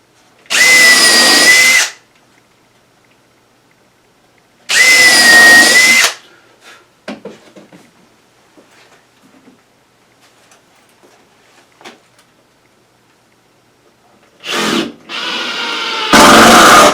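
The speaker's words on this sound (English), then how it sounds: "I'm going to pre-drill it." Power drill pre-drilling wood for screws while building a planter stand: two loud whining bursts of about a second each, close up, separated by quiet handling clatter, then another short burst and a final run.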